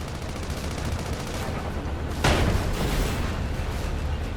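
Rapid gunfire rattles in the Sand Land video game, a dense, loud burst of repeated shots that swells into a sharper volley midway, with no talking.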